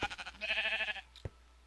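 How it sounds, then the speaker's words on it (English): A black sheep in a Minecraft-style survival video game gives one clear, close bleat, followed by a short thump. "There we go, black sheep"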